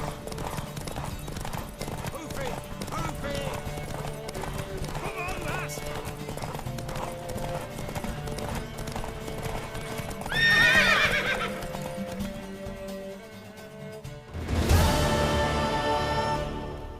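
Steady galloping hoofbeats from a horse in The Witcher 3: Wild Hunt drum along under voices, with the horse neighing loudly twice near the end.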